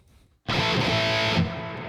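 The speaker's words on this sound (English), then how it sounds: "in this section, I'm using a digital delay. And I'm also using a digital reverb." Electric guitar run through Amplitube 5 with digital delay and digital reverb: after a brief silence, a loud, sustained distorted chord rings out and holds, its tail lingering.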